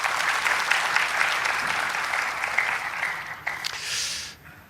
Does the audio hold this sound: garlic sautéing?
no